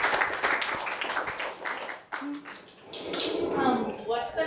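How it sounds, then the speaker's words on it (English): An audience at a music discovery talk gives a round of applause that fades after about two seconds, followed by people talking nearby. "Oh, and a round of applause."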